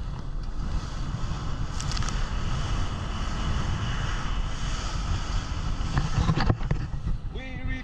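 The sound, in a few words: seaplane landing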